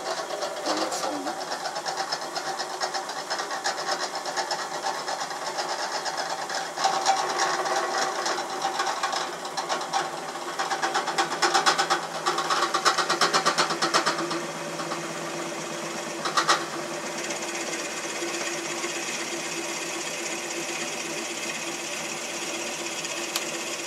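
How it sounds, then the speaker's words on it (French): Hole being drilled into an ebony blank while making a hand spinner, a continuous buzzing machine whir with rough, uneven cutting texture and a few louder surges. "c'est juste un perçage"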